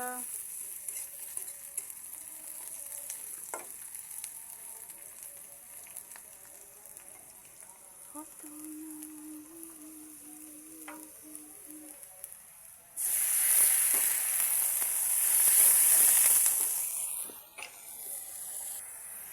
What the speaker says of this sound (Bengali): মশলাটা দিয়ে দিলাম, নাড়াচাড়া করতেছি।